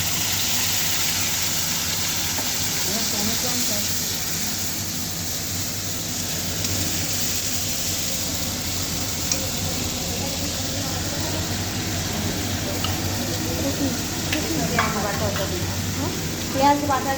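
Onion paste sizzling and frying in hot oil in a kadai, a steady broad hiss with occasional stirring scrapes, close and moderately loud, with a voice talking faintly over it.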